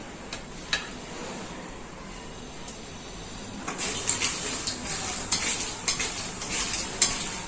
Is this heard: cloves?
yes